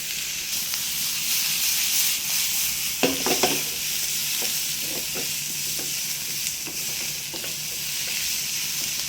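Shredded cabbage stir-fries in a hot pan with a continuous sizzle and hiss. A few scraping stirs around the three-second mark add brief clatter.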